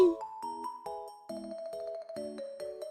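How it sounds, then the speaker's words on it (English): A short cartoonish jingle of bright, chiming tones, stepping through a quick melodic run, plays as the nosebleed sound effect in the Higurashi visual novel game; it is clear and alone with no talking. "That was the sound of blood spilling from Rena's nose."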